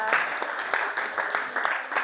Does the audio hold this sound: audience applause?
yes